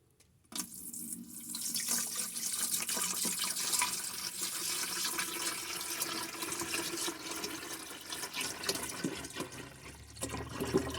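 Filtered water pouring from a container into an ultrasonic humidifier tank, a steady splashing, gurgling stream that starts abruptly and runs continuously and close up with no talking.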